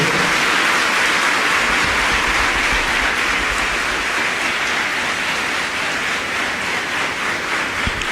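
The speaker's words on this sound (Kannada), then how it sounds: "ಈ ಚಪ್ಪಾಳೆ ಅಕ್ಷರಿಗೆ ಹೋಗ್ತದೆ" An audience applauds during a lecture, with dense, steady clapping that stays loud and continuous throughout, and no voices over it.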